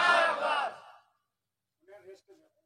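A crowd at a Bangladeshi waz sermon gathering roars Allahu Akbar in one loud collective takbir shout that fades over about a second, followed after a pause by a few brief spoken words.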